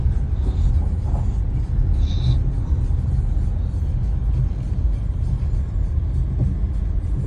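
A 2012 Honda CR-V with 225,000 km on the odometer, heard from inside the cabin while driving on a rough road, producing a steady low rumble of road and tire noise with no speech.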